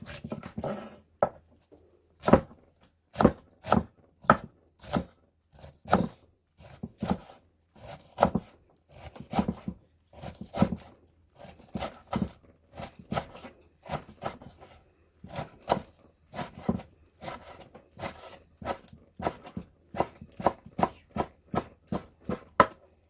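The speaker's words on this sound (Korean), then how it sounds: "좀 잘게 잘게 쫑쫑 쓸어서" A knife finely chops kimchi on a board, sharp close taps in quick uneven bursts, steady throughout, no talking.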